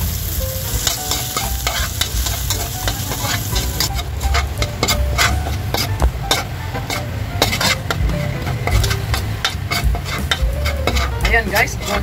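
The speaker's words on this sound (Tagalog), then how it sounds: "Mainit na guys yung ating mantika, kaya ilalagay na natin yung ating bawang" Garlic fries in hot oil in a wok for pancit bihon guisado, giving a loud, steady close sizzle with frequent metallic scrapes and taps from stirring throughout.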